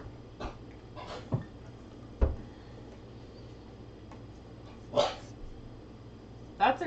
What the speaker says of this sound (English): That's an interesting way to bark